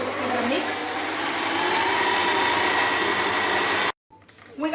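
Electric mixing machine mixing gluten-free bread dough, a loud steady whirring motor that runs for about four seconds and then stops abruptly, followed by faint clatter.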